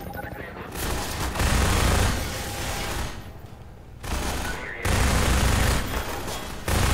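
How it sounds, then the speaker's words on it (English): Enemy gunfire in the Half-Life 2 video game, loud dense bursts of rapid shots in long sustained volleys separated by brief lulls, with a voice talking over parts of it. "Are they shooting me through the wall?"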